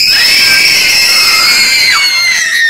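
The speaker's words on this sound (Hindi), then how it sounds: "तो आप चीख के दिखाओ" Children at a family gathering at home let out one sustained, very loud high-pitched scream at close range, held steadily for a few seconds with no talking.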